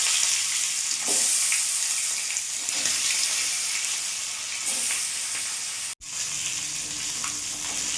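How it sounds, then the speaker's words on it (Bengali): Lyatha fish frying in hot oil, a steady broadband sizzle that runs throughout with a few soft pops and a brief dropout near the end, no voices. "তেল গরম হয়ে গেছে, এবার মাছগুলো আমি দিয়ে দেবো।"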